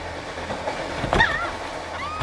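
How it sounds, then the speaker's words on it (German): A passenger train travels at about 120 km/h on rails, a steady rumbling roll with rhythmic clatter and a sharper metallic squeal midway. "120 Stundenkilometer fährt der Zug"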